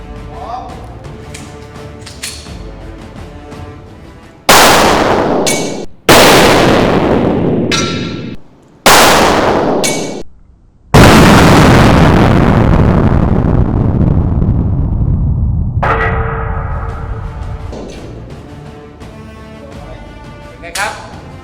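Four loud, sharp gunshots fired at a Thai amulet in a shooting test, each a sudden blast with a ringing decay, the last echoing longest, with quieter background sounds between them.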